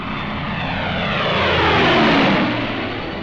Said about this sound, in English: Whenever the fields were dry enough, our planes took off to tackle the Luftwaffe.